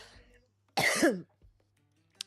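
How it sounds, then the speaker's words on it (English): A single harsh cough, close and brief, breaks a near-silent stretch, followed by a faint throat noise and a small click. "You know that pesky cough?"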